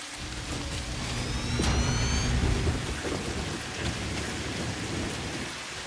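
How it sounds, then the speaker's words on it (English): Thunder rumbles under steady heavy rain in the factory-building video game Satisfactory, a loud roll building and peaking in the first few seconds, then easing back to a continuous downpour hiss with a few softer rumbles. "I hear thunder."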